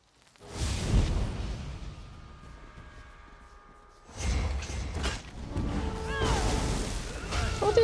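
A lightning attack in the Elder Scrolls Online game gives off loud crashing blasts with whooshing crackle, in several bursts separated by quieter stretches.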